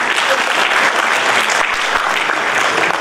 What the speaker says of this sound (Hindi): आप लोग से चाहेंगे कि हमारे इस विशेषज्ञों के लिए जरूर एक बार ताली बजाएं